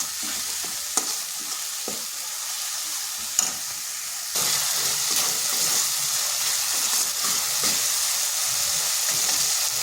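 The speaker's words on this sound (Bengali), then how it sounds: "দিচ্ছি হলুদ গুঁড়ো, ধনে গুঁড়ো, জিরে গুঁড়ো আর লঙ্কার গুঁড়ো। ভালো করে কষে নিচ্ছি।" Turmeric, coriander, cumin and chili powder fry in a pan for a pumpkin vegetable curry, giving a loud, steady hiss that swells midway, with occasional stirring knocks up close.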